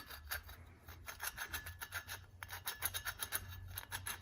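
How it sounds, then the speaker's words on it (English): Grinding inside a seized 1974 Toro engine as a tool is swirled from the underside, a steady rhythmic rasping scrape repeating several times per second, close and faint, with no talking. "I'm gonna like swirl it like this. You can hear it grinding."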